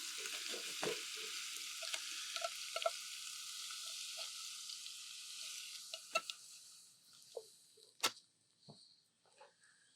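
Ground beef and refried beans fry in a pan with a steady soft sizzle, broken by occasional scrapes and clacks of stirring that grow sparser as the hiss fades.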